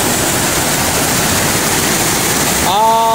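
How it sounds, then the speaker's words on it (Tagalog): A swollen river after rain rushes loudly in a steady, close, broadband roar that fills the whole clip, with a brief tonal whine cutting in near the end. "Umulan kasi guys, kaya ganito yung ilog guys oh."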